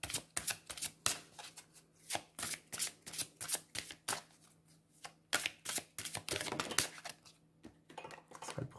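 Oracle cards being shuffled by hand make a rapid series of soft, close riffling and slapping bursts in an uneven rhythm, quiet overall, with no voices.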